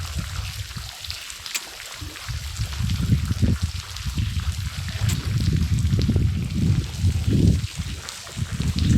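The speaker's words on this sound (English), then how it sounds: "Can you hear the water coming, streaming down?" Water rushing down a cold glacial mountain stream in the Peruvian mountains, a steady broadband flow close by with shifting low gurgles and splashes throughout, no talk over it.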